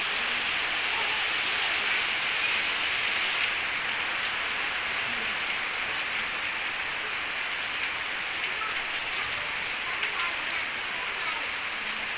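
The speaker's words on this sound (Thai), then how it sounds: "เดี๋ยวพอดีฝนตก" Steady rain pours down without pause, a dense, even hiss of drops on surfaces that stays at the same loudness throughout, with no voices.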